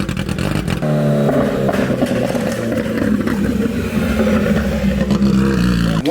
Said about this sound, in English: And I think that 1000cc motor sounded absolutely insane.